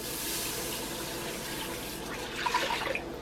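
Clam juice pouring into a pan in a soft continuous liquid stream, near and fairly quiet, ending in a few splashy bubbling trickles.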